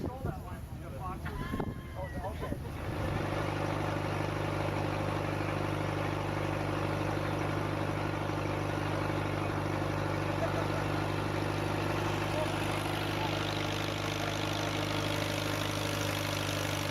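A stationary steam engine driving a belt-driven timber saw runs steadily with a constant droning hum and rhythmic mechanical chug, preceded by a few seconds of clattering noise.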